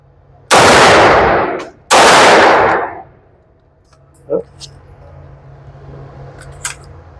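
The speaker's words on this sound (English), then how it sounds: "So this bad boy shoots nice and light, which the Scorpions are known for." Two loud, sustained bursts of fully automatic fire from a CZ Scorpion EVO 3 9mm, each lasting over a second, followed by quieter clatter and faint background noise.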